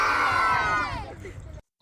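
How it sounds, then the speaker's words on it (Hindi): A crowd of children cheers and shouts with high whooping voices after their art performance, loud at first, then trailing off into silence before a sudden burst at the very end. "एक बार जो सबके लिए जोरदार तालियां"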